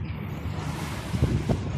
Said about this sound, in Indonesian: kalau di samping ih ombaknya kencang